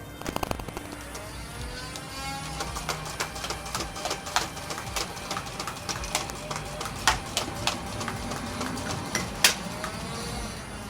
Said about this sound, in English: the Vulcanator will finish an entire magazine and then move on to the next